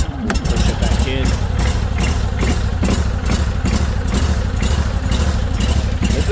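A brand-new Baretto 30SG stump grinder engine runs steadily at low throttle, a loud, close mechanical clatter and rumble that continues throughout while a person talks over it.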